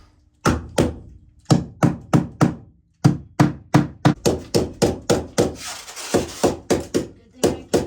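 A hammer pounds snap-together floating floor planks in an RV renovation with a steady series of sharp, close wooden knocks, some quick and some spaced, and a rubbing scrape partway through.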